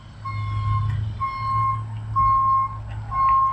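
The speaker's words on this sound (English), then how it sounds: "And now we got a Coca-Cola truck parking in front of us." A Coca-Cola truck reverses to park, its backup alarm beeping four times in an even rhythm over a low diesel engine rumble close by.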